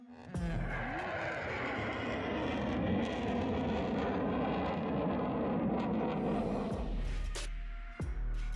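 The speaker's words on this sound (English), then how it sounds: "This strange sound was made by an F-18 when firing." A dense, roaring mechanical burst from an F-18 fighter jet firing its gun, with a harsh, buzzing rattle, sustained for several seconds and then cutting off abruptly, heard at a distance.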